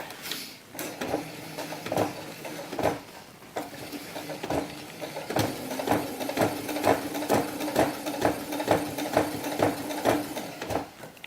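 A sewing machine straight-stitches a sheepskin vest for a doll on a slightly lengthened stitch setting, giving close, steady rhythmic bursts of mechanical clatter with short pauses between runs. No one speaks.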